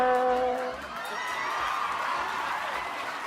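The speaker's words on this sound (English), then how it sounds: "That's more applause than the story actually needs" An audience applauds and cheers after a spoken comedy bit, a broad crowd roar with whoops, fairly loud and sustained, while a voice talks over the opening moment.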